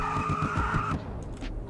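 A car does a tire burnout in the Roblox game Greenville. A loud, sustained screech of squealing tires rides over a rumbling engine for about a second, then cuts off, leaving quieter engine noise.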